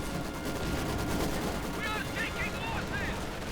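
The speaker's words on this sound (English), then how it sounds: "Maxim firing away" Maxim machine gun firing in a Company of Heroes 2 battle, a steady stream of distant gunfire within continuous combat noise, with a brief sweep of higher tones partway through.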